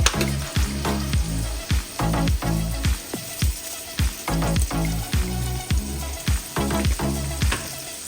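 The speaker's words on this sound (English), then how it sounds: "Stir the pot." Seasoned curry is stirred in a sizzling pot, with a steady frying hiss broken by regular strokes of the spoon scraping the pot, close and fairly loud, and no voices.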